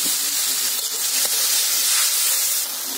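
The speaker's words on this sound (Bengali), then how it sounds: "এবার এতে একটু জল দিয়ে দিচ্ছি।" Water poured into a hot pan of mustard and poppy seed paste for a shapla flower and prawn dish, a loud, close, continuous steamy hiss that eases slightly at the end.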